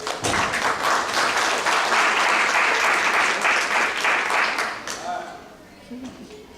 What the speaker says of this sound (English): Give a round of applause for Maria Selva.